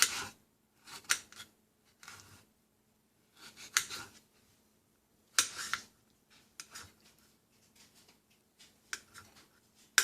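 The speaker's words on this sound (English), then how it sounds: "So you're going to just cut them again, try and cut them into similar pieces like the cucumbers" A knife cuts tomatoes for a cucumber and tomato salad on a cutting board, giving short, crisp slicing taps in small bursts separated by quiet gaps, close and fairly faint.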